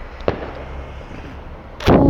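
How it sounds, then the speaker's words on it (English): Fireworks bursting on Bonfire Night, one sharp pop early on and a louder, fuller blast near the end over a steady background hiss. "That fireworks lighting up the sky."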